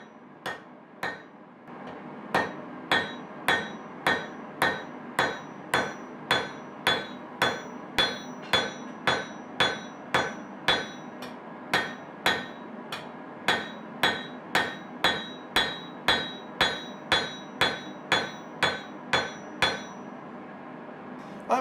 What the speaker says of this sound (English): I'm forging alternately on one side, then the other.